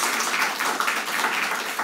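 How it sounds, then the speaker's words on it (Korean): A church congregation at a Sunday Thanksgiving service applauds in welcome of visiting family members, a steady, continuous patter of many hands clapping in a reverberant hall, with no talking. "박수로 환영하겠습니다"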